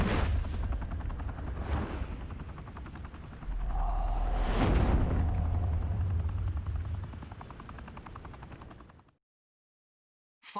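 Gunfire in the Batman Telltale Series game, a heavy continuous barrage with repeated loud bursts and a booming blast near the middle, then cut off abruptly into silence near the end.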